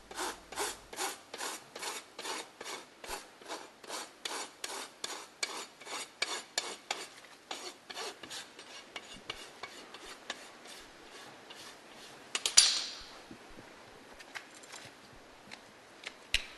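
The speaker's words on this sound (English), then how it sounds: "It is easiest to work with half-round hoof nippers and a loop knife." A donkey hoof is trimmed with half-round hoof nippers and a loop knife, giving a close, steady rhythm of rasping scraping strokes roughly twice per second, one louder crunch near the end, with no talk.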